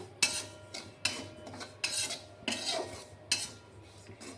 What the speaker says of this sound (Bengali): এবার আমি সুজিটাকে একটু নাড়াচাড়া করে নেব, একটু কালার করে নেব